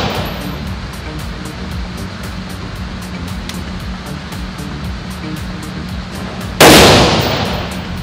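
A single sharp gunshot cracks out loud and close at a gun range, near the end, after a stretch of steady outdoor rumble and faint ticking, then its echo trails away.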